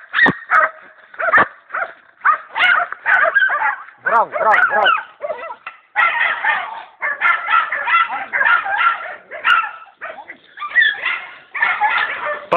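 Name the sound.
Jagdterrier dog barking and whimpering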